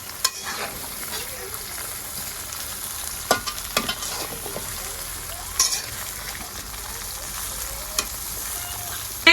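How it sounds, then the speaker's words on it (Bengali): Raw mango pieces are stirred into hot oil in a pan, giving a soft steady sizzle with a few sharp scrapes and clinks of a spoon against the pan. "সুন্দর করে এখন তেলের সাথে আমগুলো মিশিয়ে নিই।"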